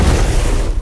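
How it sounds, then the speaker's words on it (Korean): Gunpowder detonated by a thrown rock in an anime scene booms loud and close, a dense, sustained rumble that fades slightly at the end. "냅다 집어던져 화약을 폭발시키는데요."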